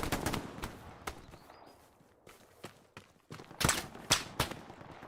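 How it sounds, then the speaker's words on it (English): Gunfire crackles in the Hell Let Loose World War II shooter game during an 18 versus 18 tournament match, with scattered single shots and short bursts of varying distance, some sharp and near, others faint, over low background rumble. "Fire exchange."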